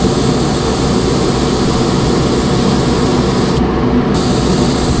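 A steady, loud hiss of airbrush paint spray runs unbroken from start to finish, with only a brief dip in the highest tones near the end.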